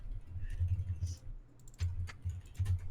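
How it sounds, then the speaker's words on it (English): Light, intermittent typing on a computer keyboard sounds at close range in short bursts, with soft low murmuring beneath. "You can keep typing there."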